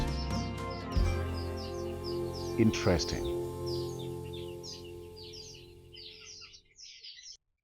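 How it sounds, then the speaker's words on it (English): Weaver birds twitter and chatter in a busy, continuous stream in the background, with a brief spoken remark and some bumping noises early on. "look at the weaver birds, the noisy neighbors over there"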